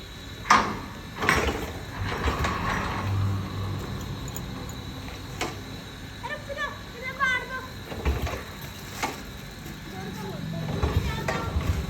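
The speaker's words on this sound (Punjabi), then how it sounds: "ਇਧਰਲਾ ਗੇਟ ਖੋਲ ਕੇ ਆ ਖੋਲਣਾ ਪਊਗਾ" A metal gate with a bolt is opened, with a few clanks, knocks and a scraping slide, while children's voices and other talk carry on around it.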